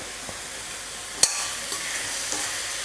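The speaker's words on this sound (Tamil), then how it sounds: "ஒரு 2 நிமிஷம் மாங்காய் வந்து நல்லா எண்ணெயில் வதக்கிக்கலாம்" Raw mango pieces sauté in hot oil in a home kitchen pan, giving a steady soft sizzle with a sharp utensil click near the middle and a couple of faint stirring taps.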